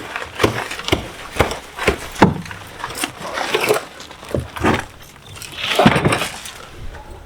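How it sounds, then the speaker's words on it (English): Several sharp taps knock a Japanese maple bonsai stock loose from its plastic nursery pot, arriving as an irregular run of close, crisp knocks with scuffing and rustling between them. "A few taps normally helps"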